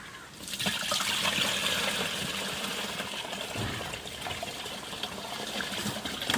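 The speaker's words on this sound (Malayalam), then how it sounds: "നമ്മൾ ഇതിലേക്ക് ബക്കറ്റിലേക്ക് ഒഴിക്കുകയാണ്." Water pours steadily into a bucket beside a home fish pond, a continuous gushing splash that holds at a fairly even level from start to finish.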